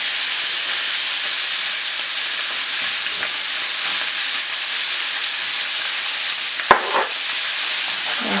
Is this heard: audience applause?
no